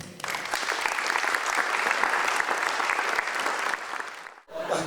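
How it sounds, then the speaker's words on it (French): Brisk, dense applause from a festival audience honoring the events committee, many hands clapping steadily for about four seconds before a sudden break, then a brief renewed burst. "Et je vous demande d'applaudir le comité des fêtes."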